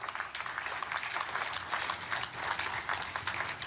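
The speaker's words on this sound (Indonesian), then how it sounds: "Tepuk tangan hadirin menyambut resmi dibentuknya Dewan Perdamaian Gaza" Audience applauding at the signing ceremony forming the Gaza Board of Peace, a steady wash of many hands clapping, fairly faint and continuous for a few seconds.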